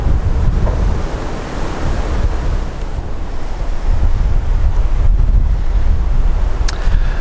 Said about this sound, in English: so you can see how windy it is